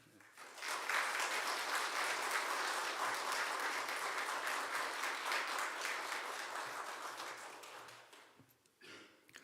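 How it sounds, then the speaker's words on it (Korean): A church congregation at a new year's special dawn prayer service claps warmly to welcome a visiting pastor, dense sustained applause that swells, holds for several seconds, then fades out. "우리 목사님 나오실 때 큰 박수로 우리 한번 환영해 주시면"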